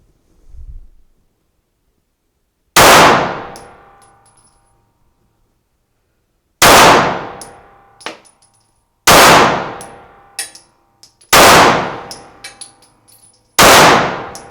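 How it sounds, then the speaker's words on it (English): Handgun shots fired non-dominant hand at a target, five loud sharp reports spaced a few seconds apart, each ringing off with a metallic tail, plus a faint softer click between shots. "I'm going to shoot 5 more rounds at the target that's on my left now"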